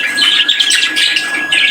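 Pet budgerigars chirp and chatter busily up close, a dense run of bright, overlapping tweets with no pause, heard alone.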